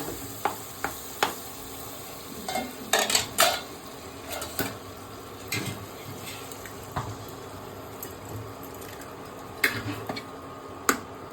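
Egg goes into a pan of spice masala frying in oil, with a steady close sizzle broken by scattered sharp pops and spatula scrapes, a few busier stirring bursts in the middle and near the end.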